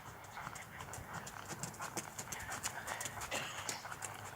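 Horse hooves clip-clop in a quick, steady rhythm as the mare is worked in a round pen, faint and somewhat distant with a trainer's voice occasionally heard.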